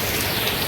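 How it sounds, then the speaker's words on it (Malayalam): Heavy rain falls steadily during a temple festival outing in Chelakkara, Thrissur, a dense even hiss on surfaces close by, with no voices over it. "നല്ല മഴ വെച്ചാൽ നല്ല മഴ കേട്ടോ"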